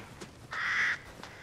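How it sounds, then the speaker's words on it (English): A crow caws in the game Resident Evil Village: one strong, drawn-out harsh call near the middle, with faint brief calls before and after, heard alone without talk. "Can I take out the birds?"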